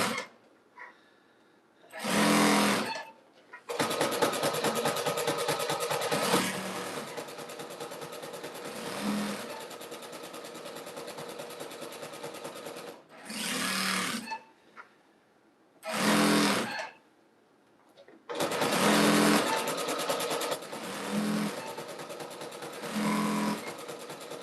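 A sewing machine joins quilt pieces in several bursts of rapid stitching, some short and some long, with quiet pauses between runs, close by and moderately loud.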